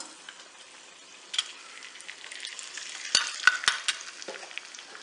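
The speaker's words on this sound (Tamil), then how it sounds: "பாதாம் வறுப்பட்டுட்டு இப்போ நம்ம முந்திரி பருப்பை போட்டுடலாம்." Almonds and then cashews frying in a pan for a sweet temple offering make a steady, soft sizzle, with sharper clinks and scrapes of stirring that grow busier toward the end.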